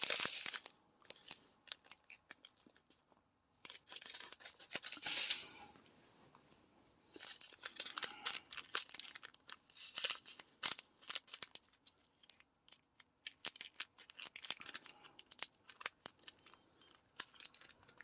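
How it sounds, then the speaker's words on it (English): Repeated crisp snips of scissors cutting through paper or foil, with crinkling and rustling between bursts, close up and fairly quiet. "And I gotta be careful with these scissors too."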